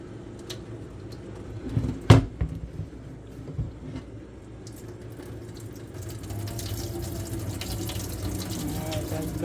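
Boiled white lima beans are drained into a sink, beginning with a sharp clunk followed by a steady rush of water pouring out that keeps going to the end.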